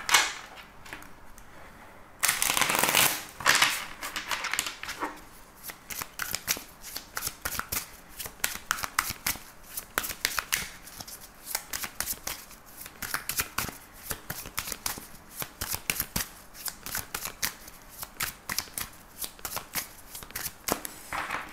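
Tarot cards are shuffled close up for a long stretch, a loud riffle early on giving way to continuous crisp, irregular flicking and slapping of the deck, with no talk over it.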